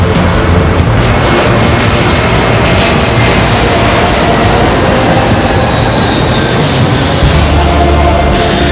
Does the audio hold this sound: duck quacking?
no